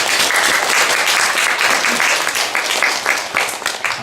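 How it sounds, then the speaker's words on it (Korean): A church congregation applauds the teachers and choir members, loud continuous clapping that thins into scattered claps near the end. "우리 교사들에게 또 찬양들에게 한번 박수해 주시면 좋겠습니다"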